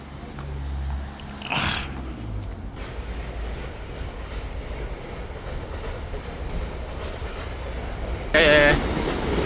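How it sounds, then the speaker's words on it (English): A long cargo train rolling past close by, a sustained rumble with rattling and clanking wagons that holds steady throughout, with brief bursts of talk over it. "Oh la la, cargo train."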